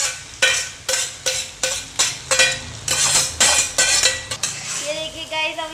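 Maggi noodles being stirred and mixed in a metal pan, with a steady run of sharp scraping and clinking strokes about twice a second over faint sizzling, close and fairly loud.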